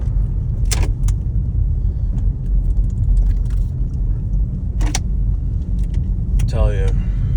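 A Jeep driving through a snowstorm, its low road rumble and cabin drone continuous throughout, with a few sharp clicks and a short squeak breaking in near the end.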